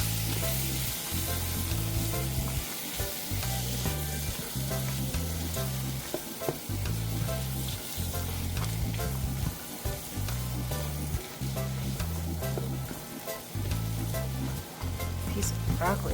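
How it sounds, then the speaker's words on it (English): Broccoli and other vegetables sauté in a hot pan for a skirt steak stir-fry, giving a steady close sizzle with stirring scrapes and clanks that carry on alone for the whole stretch. "Now I'm gonna give these a little bit of a saute."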